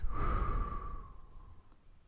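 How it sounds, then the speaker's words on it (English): A slow, calm breath released during a relaxation exercise, a single soft exhale that fades over about a second, close to the listener with no speech. "Calmly release your breath."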